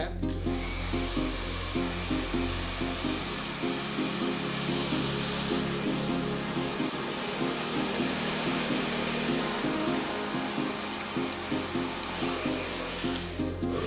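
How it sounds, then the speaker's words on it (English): Steady loud whoosh of a blow dryer running close up over a hair replacement hairpiece, with a low motor hum that wavers slightly. "Let me do this demonstration right now with the blow dryer"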